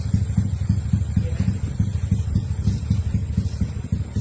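A motorcycle engine at a small Thai racing workshop is started and runs with a rough, loud, choppy idle. The exhaust pulses stay steady and close with no clear rising rev.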